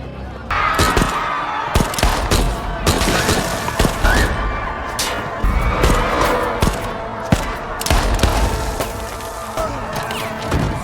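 A film shootout fills the scene with sharp, loud gunshots in irregular bursts and scattered single cracks over nearly eleven seconds, set against a busy background of action noise.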